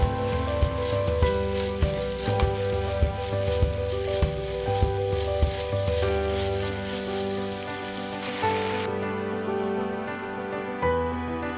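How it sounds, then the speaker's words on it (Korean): Marinated beef and vegetables fry in oil in a pot for spicy beef yukgaejang, a steady crackling sizzle with occasional stirring clinks over a low background hum, with no talking. "버무린 재료를 넣고 고추기름이 만들어질 정도로만 볶아줍니다."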